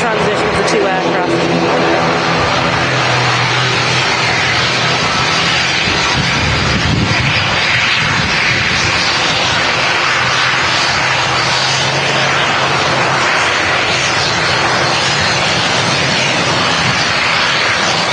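An Airbus A330 airliner departs Manchester Airport, its jet engines a loud, steady, broadband roar that holds for the whole stretch, with people talking nearby under the noise.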